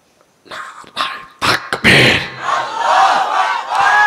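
A crowd at a Bengali religious gathering shouting the takbir chant in loud, ragged bursts of massed voices that swell into a sustained roar.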